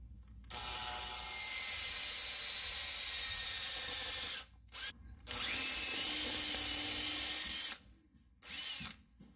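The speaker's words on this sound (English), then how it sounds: "now we're ready to drill them." A power drill bores holes through center-punched catapult parts in long, loud whining bursts, with short pauses and a brief stop-start between runs.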